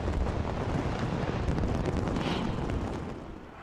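New Year fireworks over Sydney Harbour Bridge make a dense, continuous rumbling roar of distant blasts and crackle, steady throughout and easing slightly at the end, with no talk.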